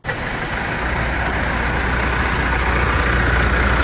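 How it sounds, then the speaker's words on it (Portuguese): A Mitsubishi Triton pickup's 2.4 engine starts after an oil change, catching at once and settling into a steady, loud diesel-like idle rumble that holds close and unchanged to the end, with no voices. "dá aquela partida para a gente nivelar o óleo do motor e conferir o nível após o serviço"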